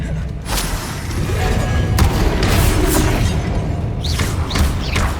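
Confringo blasting-spell explosions in Hogwarts Legacy on PS5: loud, booming thuds and bursts in a dense run over rumbling combat noise, with a few brief voice-like sweeps near the end.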